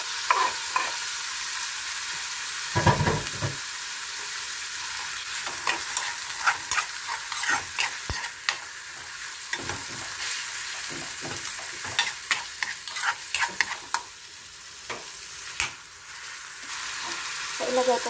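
Tomatoes and pork for menudo sizzle loudly in a hot pan while a utensil scrapes and stirs in frequent irregular strokes, with no talking.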